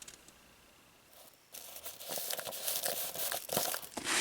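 Masking tape is pulled off the roll and torn in a run of close, crackly rips and crinkles that start after a quiet moment and grow louder.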